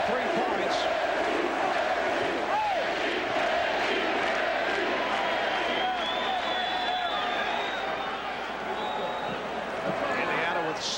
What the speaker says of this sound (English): The crowd chanting for Reggie Miller with 23 points.